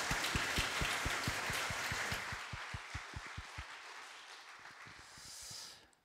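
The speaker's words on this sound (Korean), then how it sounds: "우리 미래세대 연합 찬양팀에게도 감사의 박수 보내도록 하겠습니다" A church congregation gives a round of applause to a youth worship team during a Sunday service. A low thumping beat pulses under the clapping at first, then the clapping thins and fades out near the end.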